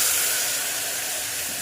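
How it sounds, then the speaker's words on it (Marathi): Hot water splashed into a spice tempering in a pan, giving a steady, even hiss of steam and sizzle that holds at the same level throughout. "मसाला करपू नये म्हणून अगदी चमचाभर गरम पाणी टाकून घ्यायचं।"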